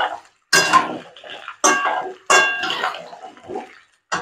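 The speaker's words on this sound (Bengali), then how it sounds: "আলুগুলো দিয়ে দিয়েছি, এবার আমি আলুটা নেড়ে নেব ভালো করে।" Potatoes for aloo posto are tossed and stirred in a frying pan, with several loud scraping clatters of a utensil against the metal in irregular bursts close to the microphone.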